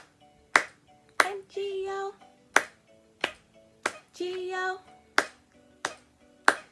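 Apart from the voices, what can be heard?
hands clapping along to the Bingo song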